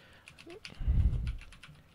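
Keystrokes on a computer keyboard while entering a password in a HooToo Tripmate Titan setup wizard: a short, close burst of light clicks with a duller thump in the middle, no talking.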